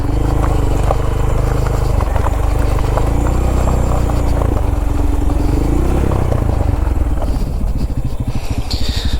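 A Honda Grom motorcycle runs on gravel, a loud close engine drone that holds steady and then breaks into a rapid pulsing idle near the end, with no voices.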